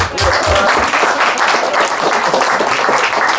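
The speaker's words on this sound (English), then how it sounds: "You can clap." A crowd at a comedy performance breaks into loud applause, close and dense clapping from many hands sustained for a few seconds.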